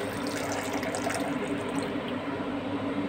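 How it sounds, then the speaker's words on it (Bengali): Water pours from a small bowl into a pan of cooking pomfret curry, a steady close splashing gush that holds for a few seconds, then thins out. "ছোটো বাটির আর 1 বাটি জল দিয়ে দিলাম।"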